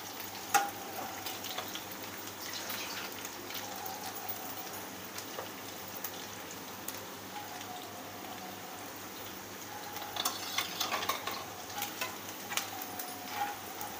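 Chicken 555 pieces frying in a pan, restaurant style: a steady crackling sizzle of hot oil with brief stirring scrapes and louder spitting bursts toward the end, no talking.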